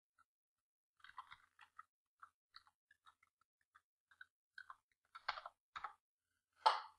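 Sparse, quiet clicks of typing on a computer keyboard placed by the left hand, irregular keystrokes spread out at first and growing slightly more clustered and louder toward the end, with no talk.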